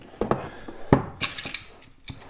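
Unboxing of a Geree 2020 video doorbell: a few sharp cardboard and plastic clicks, scrapes and taps, irregular and close, with quiet gaps between.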